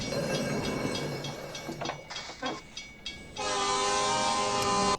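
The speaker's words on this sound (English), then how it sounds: "Oh, there's an actual train." A train in the Back to the Future Part III film rumbles past with clattering wheels and scattered knocks, then a loud sustained horn or whistle blares over the rail noise for the final seconds.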